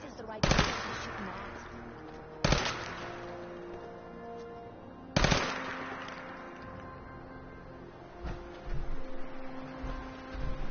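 Three sharp, loud gunshots crack out at uneven intervals in Fallout 4, each ringing and decaying over a low hum, with a quieter rattle of further fire toward the end.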